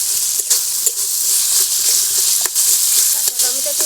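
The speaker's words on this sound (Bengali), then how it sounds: "এবারে সুন্দর করে গুটে গুটে টমেটোগুলো আমি ভেজে নেব।" Green tomatoes sizzle steadily in a pan for a Bengali chutney, a continuous bright frying hiss with a few soft clicks and stirring taps.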